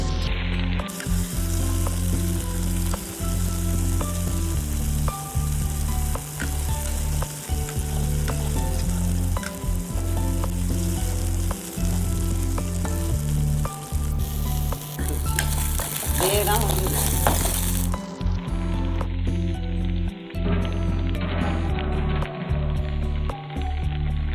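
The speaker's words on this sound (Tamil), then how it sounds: "இந்த சுண்டைக்காயோட கலர் மாறணும் இதை நல்லா வதக்கி விட்டுக்கலாம்" Green turkey berries (sundakkai) sauté in a pan for a kuzhambu, giving a steady close sizzle and frying crackle punctuated by regular stirring scrapes, with no talk.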